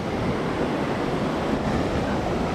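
Stream water at Canding Falls in San Clemente, Tarlac rushes in a steady, dense wash, loud and continuous with no breaks.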